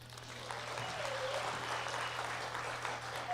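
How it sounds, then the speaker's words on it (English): Steady applause from an event audience, sustained clapping that swells slightly and continues throughout, with a low electrical hum underneath. "Please also give a round of applause to our lead sponsor"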